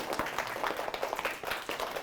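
Children at an elementary school career day clap for visiting guests, producing a short burst of scattered, fairly close handclaps with no voices.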